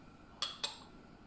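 A lid is set onto a pot holding pears and water, giving two quick, light clinks close by in a quiet room.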